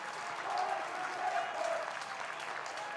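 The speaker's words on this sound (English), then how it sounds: "The applause, I think," Steady applause from a stadium crowd at a reserves soccer match, sustained and fairly distant, holding at an even level throughout.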